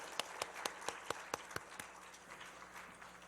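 A church congregation at a Sunday praise service in Sacheon claps for a visiting missionary, with about eight sharp, spaced claps that soften into faint, scattered clapping.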